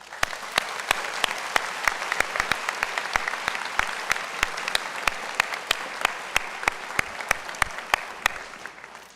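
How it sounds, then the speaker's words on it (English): An audience at a school recognition day claps for honor roll students, with steady sustained applause and sharp individual claps standing out, moderately loud and close. "let's give a round of applause for all those who achieved honor or high honor roll this year"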